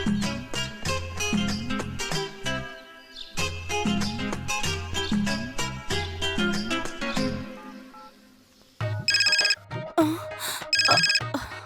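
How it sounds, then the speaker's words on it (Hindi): A phone ringtone plays loudly in a Kannada romantic comedy scene, a repeating musical melody in rhythmic bursts that pauses briefly, then returns as bright electronic trilling rings near the end. "हेलो हेलो, अपने फोन पे मैं ही फोन कर रहा हूँ"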